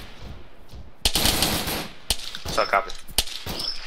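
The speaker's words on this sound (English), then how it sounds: "1-2 is shooting over our heads." Bursts of rapid automatic gunfire from friendly troops in the military shooter ARMA 3, loud and close, with sharp cracks and rattling strings of shots while a voice speaks briefly over the radio.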